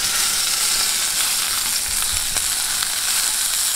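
Pieces of wild duck sizzle and crackle steadily in a hot pan, skin side crisping, a dense continuous fry at close range with no voices.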